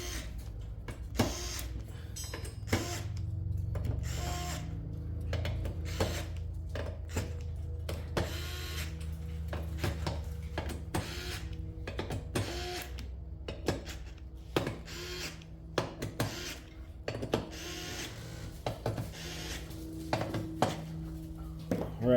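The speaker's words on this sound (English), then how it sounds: "I'm going to go ahead and adjust the torque on this. We're going to come through and tighten all these up now." Power driver with adjusted torque tightening screws on a rail of a modified Queen Ant Pro V2 CNC router: short whirring bursts repeated many times, separated by metallic clicks and clatter of handling.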